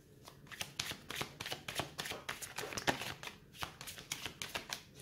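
Lenormand oracle cards being shuffled by hand in a quick series of crisp riffling, slapping bursts, close and fairly quiet, with no talking.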